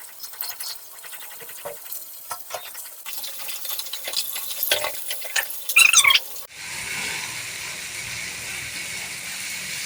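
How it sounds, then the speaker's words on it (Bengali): Bata fish going into hot oil for a mustard fish curry: a few seconds of clattering and stirring, then a loud, steady sizzling hiss that runs to the end, with no talking. "তেলটা গরম হয়ে গেছে এবার আমি মাছগুলো ভেজে নেবো"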